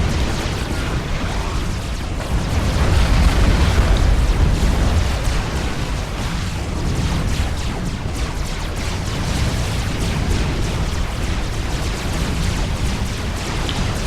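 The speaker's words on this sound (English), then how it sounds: "So I'm going to tell you to move in and open fire on their ACU" Naval frigates open fire on an enemy commander unit in the Supreme Commander strategy game, a dense continuous barrage of booming explosions and rumbling low impacts that swell briefly then roll on steadily without pause.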